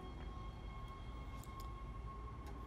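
Tram moving through the Dead Space video game, a continuous heavy rail rumble with a steady whine and faint metallic squeals, low and unbroken throughout.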